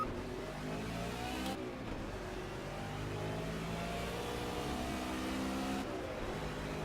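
Race car engine in Project Cars, revving steadily at moderate volume with shifting pitch and brief changes in throttle, heard alone without talk.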